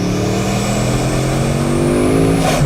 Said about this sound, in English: Did you hear that switch from 2 turbos to 4 turbos?